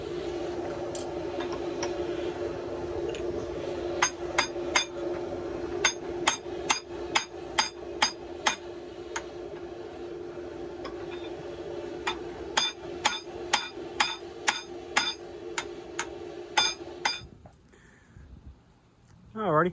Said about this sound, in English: put the thing in the vise and then try to smack the horn back to center